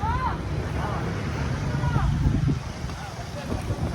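Steady wind noise buffets the microphone outdoors, a constant low rumble with some faint distant voices mixed in.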